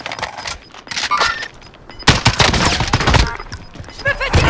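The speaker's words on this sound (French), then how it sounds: "Je me fais tirer." Rapid bursts of gunfire in the video game Call of Duty: Warzone, sparse crackling shots at first, then a dense, loud fusillade of overlapping rounds from about the midpoint on, with no talking.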